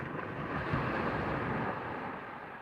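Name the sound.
waves crashing on the shore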